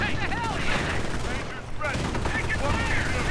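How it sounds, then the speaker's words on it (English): Bazooka rockets and grenade blasts in a WWII real-time strategy game battle, heard as dense, loud rattling gunfire and bursts with whooshing projectiles and a brief lull midway, mixed with faint game voice chatter. "Panzer rockets from bazookas fly, and a grenade on the Grenadiers."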